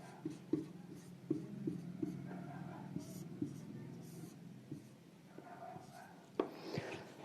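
Chalk or marker writing on a board during a Class 12 maths lesson, soft scratchy strokes and light taps at irregular intervals, quiet and close, with faint speech in the background.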